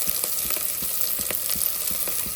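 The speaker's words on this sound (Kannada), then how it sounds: "Golden brown ಬರುತ್ತಂತ ಮೊಗ್ಗಿಸ್ಕೊಳ್ಳಿ." Onions frying until golden brown for a sprouted-bean sambar, a dense continuous close sizzle broken by regular clinks and scrapes of stirring, with no voices.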